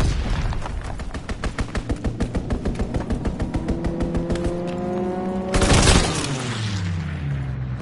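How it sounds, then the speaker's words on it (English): A strafing run in a PS4 video game sounds as a rapid burst of machine-gun fire, a quick string of evenly spaced shots. A roaring impact or explosion follows, with ringing, falling tones. "Enemy strafing run inbound."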